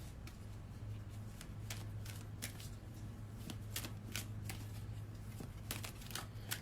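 An oracle deck of crystal cards is shuffled, quick soft riffling flutters repeating in bursts, quiet and close, with no talking.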